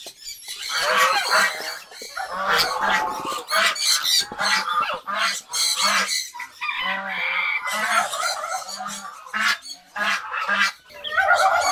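Geese and ducks, including Chinese geese, call loudly and repeatedly at close range in a farmyard setting with ducklings, a dense overlapping chorus of honks and quacks that continues throughout.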